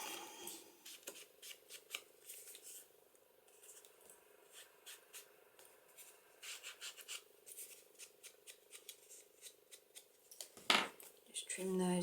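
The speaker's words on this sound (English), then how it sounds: "Trim those ends off a little bit." Scissors trimming the ends of ribbon and paper on a craft paper bag tag, a series of quick, close, crisp snips and light rustling scattered unevenly throughout.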